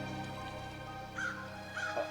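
Crows caw in the Farmer vs. Evil 2.0 VR game, two or three harsh calls over a steady droning game soundtrack, faint and in the mid-distance.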